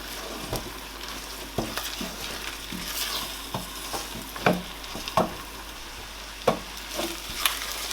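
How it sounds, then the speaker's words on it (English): Ground egusi frying in a pot with onions for Nigerian soup, a steady sizzle broken by sharp scraping stirs and occasional spoon knocks, close and without talk. "I'm going to fry the egusi for like 2 to 3 minutes as well."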